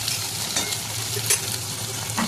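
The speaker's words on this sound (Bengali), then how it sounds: "এখন ধীরে ধীরে কুর্তিগুলো ভেজে নেব" Steady close-up sizzling of ivy gourd frying in hot oil in a wok, with occasional soft scrapes of stirring.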